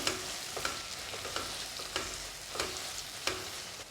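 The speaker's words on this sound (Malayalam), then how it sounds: "ഇഞ്ചിയും വെളുത്തുള്ളിയെല്ലാം ക്രഷ് ചെയ്ത് എടുത്തിട്ടുണ്ട് ഇനി നമുക്ക് ഇതിലേക്ക് ഇട്ട് കൊടുക്കാം അപ്പോൾ പച്ചമുളക് നമുക്ക് നന്നായിട്ടൊന്ന് മിക്സ് ആക്കി കൊടുക്കാം" Crushed ginger, garlic and green chili stirred in a hot pan, a steady soft sizzle broken by about half a dozen evenly spaced scrapes of the spoon against the pan.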